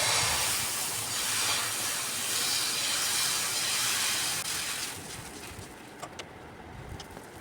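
Dosa batter cooking on a hot pan gives a strong, steady hiss that fills the first five seconds, then drops to a quieter sizzle with a few faint clicks.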